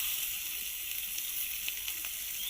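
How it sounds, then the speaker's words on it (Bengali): Chopped onion sizzling in hot oil in a pan for a village-style fish curry, a bright steady hiss close by with faint crackles, no voices. "পেঁয়াজ কুচি দিলাম,"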